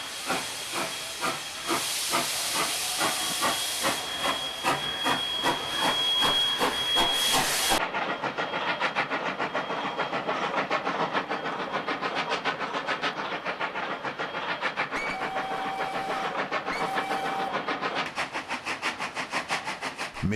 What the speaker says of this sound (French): savourons ces derniers instants de la vapeur avec ces coups d'échappement qui ne résonneront plus dans nos campagnes